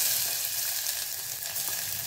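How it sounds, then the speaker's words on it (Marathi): Onion sizzling as it drops into hot tempering oil spiced with peppercorns, a steady dense frying hiss that holds for a couple of seconds with no voices. "छान अशी फोडणी तयार झाली की त्यामध्ये घालायचा आहे सुरुवातीला कांदा"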